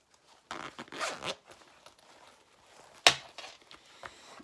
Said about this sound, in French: nous allons ouvrir les zips